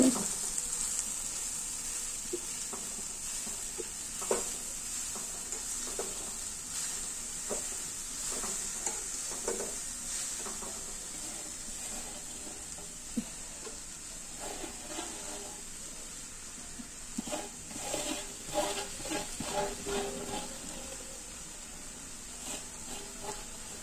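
Moringa leaves go into browned onions in hot oil, giving a continuous sizzle with repeated scraping and clinking of a spoon as the mixture is stirred, close and steady.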